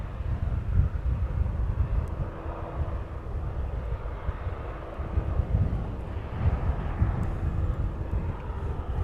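An aircraft passing close by near East Midlands Airport on an evening, a broad low engine rumble with wind buffeting the microphone, steady and fairly loud throughout with no talk.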